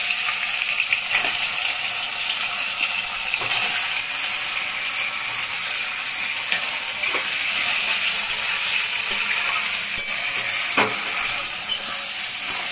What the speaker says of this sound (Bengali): এখন পনিরটা ছেড়ে দিব।